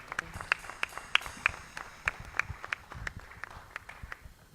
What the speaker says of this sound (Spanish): Dele fuerte un aplauso al Señor